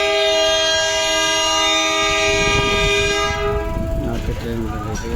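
A local passenger train on the India–Nepal route sounds a long, loud, steady horn for about three seconds over rumbling wheels, then the horn stops and the clattering rail noise carries on close by.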